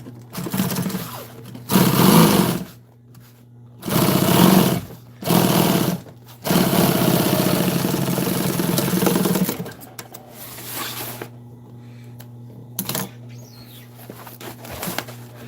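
A sewing machine stitches an old military jeep seat cover during upholstery work, running in several short close bursts and then one longer steady stretch, with quiet pauses between runs.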